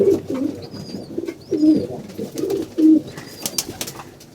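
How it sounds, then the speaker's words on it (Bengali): Pigeons coo repeatedly nearby in low, throaty rolling phrases, with faint chirps of other birds in the background. "তো আমাদের কবুতর দেখতে পাচ্ছেন"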